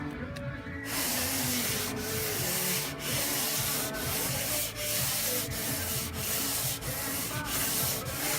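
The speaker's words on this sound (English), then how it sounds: "I take a piece of PVC pipe and I wrap it with my sandpaper, and I'll just come down here and just hand sand this" Sandpaper wrapped around a PVC pipe rubs by hand across the body of a 1963 Chevrolet Bel Air, a loud, close, raspy scraping in steady back-and-forth strokes about once per second after a brief quiet start.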